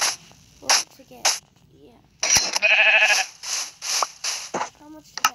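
Several short bleats from a sheep in a survival video game, one longer and louder in the middle, over light background noise and occasional speech.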